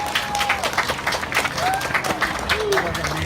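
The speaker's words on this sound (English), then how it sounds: "Give him a round of applause." An outdoor Earth Day expo crowd in Waikiki applauds the mayor, with sustained clapping mixed with cheers and a few rising whistles, while a voice talks over it.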